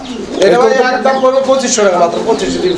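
A pair of pigeons coo close by at a pigeon market in repeated throaty, rolling calls, overlapping in a steady stream.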